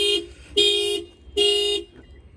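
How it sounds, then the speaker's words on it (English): Factory alarm on a 2020 Toyota Corolla sounding after a bang on the window: three loud, close, blaring horn-like bursts with short gaps, then a fainter tail. "I'm gonna go ahead and bang on the window, and that will fire off the alarm"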